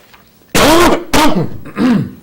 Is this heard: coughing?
yes